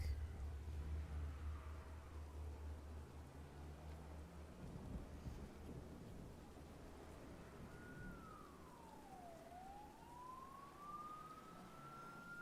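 Steady rain hisses through a stormy night in Batman Arkham Knight, with low rumbling thunder early on and a distant wailing siren sweeping up and down, the whole scene faint and continuous.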